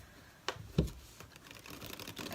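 Oak, Ash and Thorn tarot cards being shuffled by hand, giving a couple of crisp card snaps followed by soft, continuous riffling and rustling at close range.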